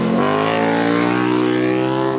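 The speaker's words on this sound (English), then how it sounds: "The exhaust note on this bike at speed and the intake honk combined to just be really sexy" A KTM 1290 Super Duke R 3.0 motorcycle at speed on a track, its exhaust note and intake honk blended into a loud, steady, high-revving drone that holds close and continuous throughout with a slight rise at the start.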